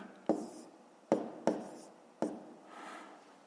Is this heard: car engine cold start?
no